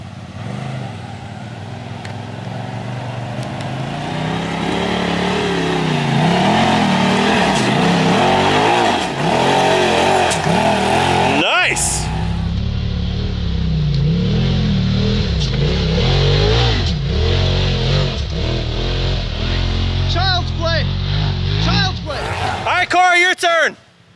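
An off-road UTV engine revs hard and loud in low gear while climbing a rocky hill, the pitch surging and dropping, then easing off, with people talking and shouting over it.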